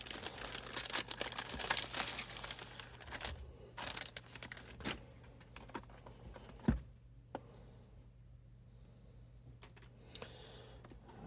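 A plastic bag wrapped around a boxed Broadway Limited Imports CN model train car is handled close up, crinkling and rustling in bursts with short quiet pauses, no talking.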